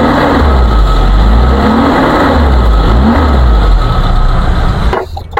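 A 1994 Suzuki Katana GX car engine runs steadily at idle during an exhaust check, a loud, close, continuous low rumble that cuts off abruptly near the end.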